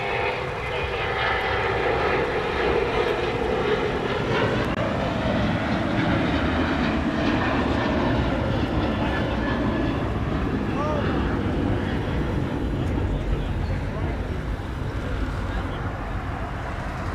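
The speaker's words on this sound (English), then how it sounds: "Airbus A320 coming in from Guadalajara." Airbus A320 landing at LAX after a flight from Guadalajara: a loud, steady jet roar holds throughout, its pitch sweeping slowly as the plane passes near, with someone talking over it at times.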